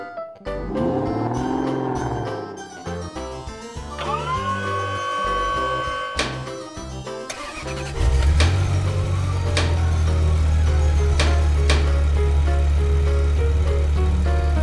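Cartoon toy car engine starting up in a kids' color-learning animation: musical chimes and tones first, then a loud low engine rumble that settles into a steady idle with occasional bright clicks.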